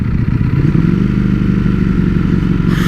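A Ducati Streetfighter V4S V4 motorcycle engine runs steadily at close range, a loud, even idle-like rumble that continues throughout without voices.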